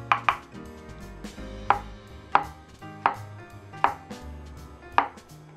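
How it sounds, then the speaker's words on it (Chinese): A knife slices mushrooms on a cutting board in a home kitchen, eight or nine crisp, evenly spaced chops ringing out clearly and close against quiet background hum, with no talk. "蘑菇切片"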